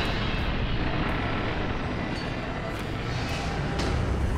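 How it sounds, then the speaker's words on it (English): In the video game Dying Light, an airplane passes overhead as a steady, loud, broadband engine roar that holds evenly throughout, with no talk over it. "Ay, ano yan? Airplane."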